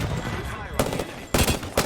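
Rapid gunfire during a battle royale match, bursts of automatic shots crack out loud in two or three short volleys over a background of game noise.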